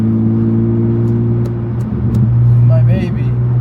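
A BMW E36 engine drones steadily at close range from inside the car as it drives, a deep low hum that dips briefly and swells again, with brief talk over it.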